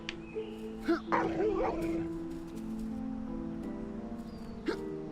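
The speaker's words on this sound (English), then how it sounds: "I've killed a bigger dog than you." A dog barks and yips in the video game Apotheon, with a few sharp barks and whimpering yelps over a low droning game background.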